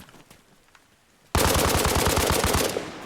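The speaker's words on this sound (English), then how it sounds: "We're going to know where that gunfire came from." Sustained automatic gunfire in the tactical shooter Arma Reforger bursts in suddenly after a quiet stretch, a loud, rapid string of close shots that runs steadily to the end.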